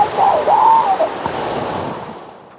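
River water rushing through a canyon on the Klamath River as kayakers pass, a steady close broadband roar that swells briefly and then fades out.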